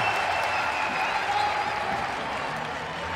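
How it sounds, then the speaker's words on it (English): Greek fans at a FIBA U20 European Championship quarter-final basketball game between Turkey and Greece applaud in a dense, continuous roar of clapping and cheering that fills the arena at a steady loud level throughout. "See the Greek crowd really appreciating the effort defensively."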